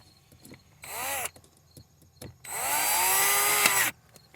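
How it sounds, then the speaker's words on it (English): Set screws driven back in with a power driver during a van repair: two short bursts of motor whine that ramp up then slow, the second longer, with quiet handling noises between. "Put the set screws back in."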